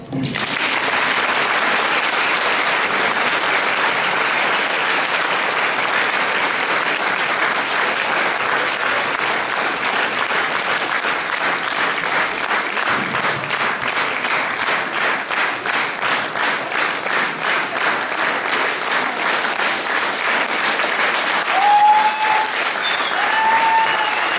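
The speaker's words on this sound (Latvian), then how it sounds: "Tātad aplausi." Sustained audience applause fills a school's first graduation ceremony, dense and steady for over twenty seconds, with clapping turning more rhythmic near the end and a few brief voices cutting through at the close.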